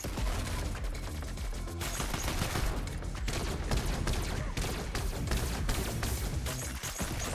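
An AR fires in rapid, continuous bursts in a video game, a dense rattling fusillade that fills the whole stretch without pause.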